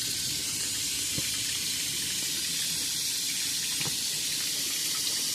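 Water gushes steadily through a heater core hose on a 2004 Suburban during a coolant flush, a constant close splashing hiss that holds even for several seconds.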